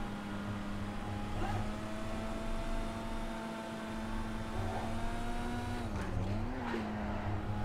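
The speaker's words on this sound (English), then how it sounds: "The car just drifts automatically." Issi Sport sports car drifting around a racetrack lap in GTA 5, with a steady engine drone and whining tone that holds throughout and briefly dips and wavers near the end, without speech.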